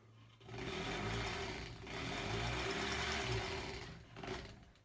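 An old Singer sewing machine stitches in close, steady bursts, a rhythmic mechanical hum with brief pauses between runs and no voices over it.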